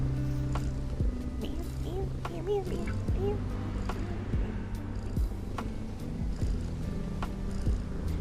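A cat gives a few short rising meows in a quick cluster near the start, over a steady low hum and soft thumps, then goes quiet while the background drone continues.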